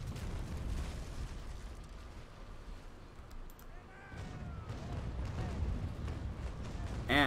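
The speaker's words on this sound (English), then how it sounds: "Not a full broadside, but one set of guns." Ship cannons from a single bank of guns fire in the Naval Action naval game, a sustained run of deep booms and rumbling blasts that rolls on for several seconds, loud and close.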